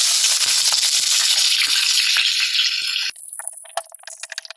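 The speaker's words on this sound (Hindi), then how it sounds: "तेल हमारा गर्म हो चुका है। अब हम इसमें अपनी प्याज डाल देते हैं।" Onions drop into hot oil in a kadai and fry with a loud, dense sizzle and crackle that thins into sparser popping near the end.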